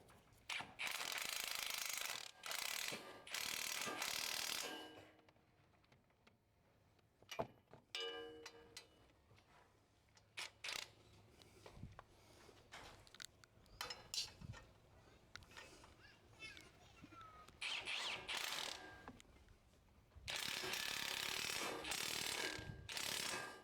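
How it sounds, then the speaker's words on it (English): A ratchet tightens a nut on BNR coilovers, bursts of rapid clicking ratchet strokes at the start and end, with quieter metallic handling and intermittent clicks in between. "You could probably just go ahead and tighten the nut down here"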